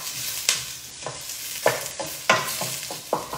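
Vegetables softening in a hot pan, stirred with a wooden spoon: a steady sizzle broken by a series of rhythmic scraping strokes, roughly every half second, close and clear.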